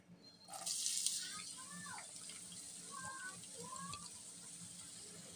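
Chopped onions hit hot soybean oil in a frying pan with a sudden loud burst of sizzling, which settles into a steady, bright crackling hiss that carries on to the end.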